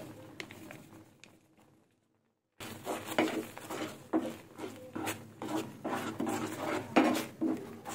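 Homemade kheer filling with milk and powdered milk stirred steadily in a pan, giving soft repeated scraping and patting strokes near the mic, with a brief quiet gap before the stirring resumes.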